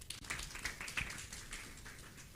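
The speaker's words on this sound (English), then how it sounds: "Let's clap for her again." An audience at a women-in-leadership event claps, a dense patter of many hands applauding steadily for a couple of seconds at moderate, slightly distant volume.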